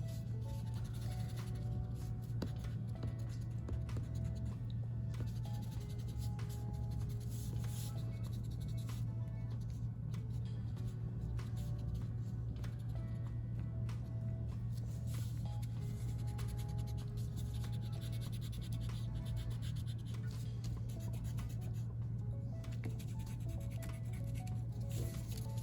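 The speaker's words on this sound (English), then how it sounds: "then I can erase all these guidelines because I no longer need them" Pencil guidelines being erased from paper during a self-portrait drawing, a steady soft rubbing and scratching that runs continuously over a constant low hum, with no talking.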